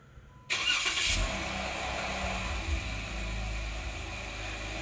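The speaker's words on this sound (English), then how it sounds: "This is the cold startup on the 2017 Jeep Wrangler Rubicon with the stock exhaust." A 2017 Jeep Wrangler Rubicon with its stock exhaust cold starts: a sharp burst as the engine catches and flares, then settles into a steady, rumbling idle heard close and alone.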